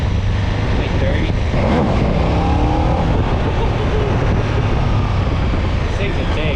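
A motorcycle accelerates in third gear at around 30, its engine droning steadily beneath heavy rushing wind noise, with a rider's voice talking over it.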